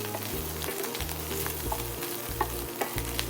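Breakfast sausage fries in a pan with a loud, steady sizzle and crackle, and a few scraping stirs and small pops rise above the constant hiss.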